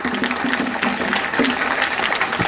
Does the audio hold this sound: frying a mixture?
no